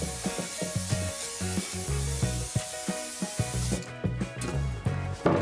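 A steady hiss from an aerosol can spraying heat-resistant caliper paint onto Smart Fortwo rear brake parts for several seconds, then it cuts off, with a rhythmic thumping pattern running underneath.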